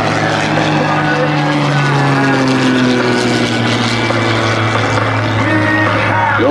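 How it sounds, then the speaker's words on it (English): A propeller aerobatic plane from the Iron Eagles team flies airshow maneuvers at the 2006 Westfield International Airshow, its engine a loud, steady drone with a rising and falling pitch that holds throughout. "They kick that hard rudder, snapping the aircraft all the way around on top for the avalanche maneuver."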